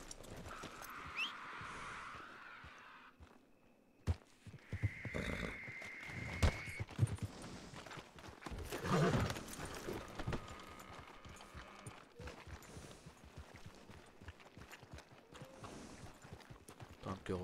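Horse hooves clip-clopping in a Western video game, irregular thuds and clops at moderate distance, rising and falling in loudness over a quiet background.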